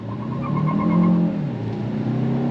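A 2026 Hyundai Santa Fe Hybrid SUV, front-wheel drive and in sport mode, pulls away hard from a stop, its steady engine and road drone swelling and holding loud and close throughout with no talking.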